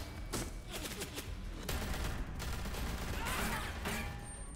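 Dense video game gunfire in a steady, loud fusillade of rapid overlapping shots that fills the whole stretch without pause.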